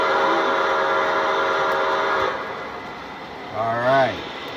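A Polar Express model train, engine number 12, with a steady whistle-like tone that fades partway through and then a short rising horn blast near the end, heard close over a low running hum.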